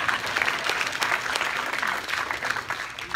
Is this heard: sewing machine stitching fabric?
no